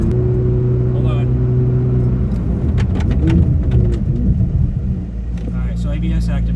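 A C8 Corvette Z06 fitted with carbon ceramic brake rotors cruises at about 70 mph, heard from inside as a loud, steady low engine and road rumble, with voices in the cabin.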